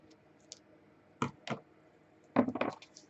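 A knife cutting off the end of a recipe ingredient makes a few short, crisp chops and taps: one faint tick, then two distinct close cuts, then a quick cluster of several cuts against a quiet background.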